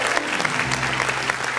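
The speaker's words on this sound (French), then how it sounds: "Applaudissez pour la Côte d'Ivoire." Brief burst of comedy club applause, a crowd clapping steadily and fairly loudly for under two seconds after a comedian's line, with a faint voice beneath.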